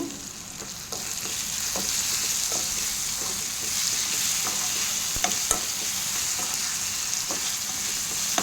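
Curry leaf gravy ingredients sauté in a pan with steady sizzling and frying, broken by scattered light stirring taps and scrapes, fairly close and even, with no voices.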